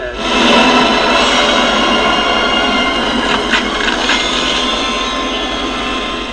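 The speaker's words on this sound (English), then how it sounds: "that's a real helicopter" A real helicopter in a night film scene with smoke, heard as a steady, loud, continuous rotor and engine roar that fills the whole stretch.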